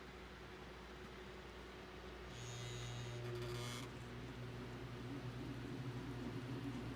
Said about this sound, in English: So this is just a mass of copper, which I'm going to spin with a motor.